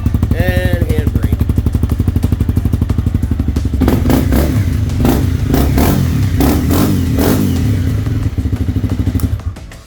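A 2013 Honda CBR 250R Repsol Edition motorcycle runs close by, idling with a rapid steady thrum and then revved repeatedly in sharp throttle blips, loud and rising in bursts before settling back and cutting off.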